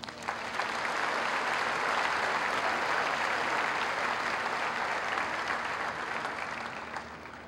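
An audience at a class of 2010 graduation ceremony applauds a salutatorian receiving his medallion, a steady, moderately distant wash of many people clapping that swells in and fades slightly.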